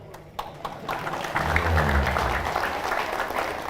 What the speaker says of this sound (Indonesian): Nah, baru tepuk tangan